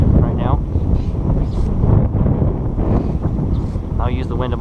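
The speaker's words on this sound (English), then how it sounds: "See, the wind's coming at me. It's really windy." Strong wind buffets the microphone in a steady roar while fly fishing for bass, perch and bluebill at a golf course pond, and someone talks over it.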